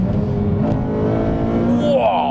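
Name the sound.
Honda Civic Type R FN2 Mugen engine revving into VTEC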